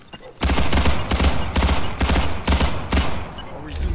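Pistol gunfire in the video game Ghost in the Shell: a rapid burst of loud, close shots in quick succession, about eight sharp reports with ringing tails, beginning after a brief quiet lead-in.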